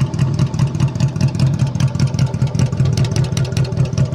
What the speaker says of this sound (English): It's a real smooth running bike